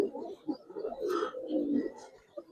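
A ring-eyed Giribaz pigeon gives low, throaty coos in short rolling phrases, close by and fairly soft, with faint background rustling.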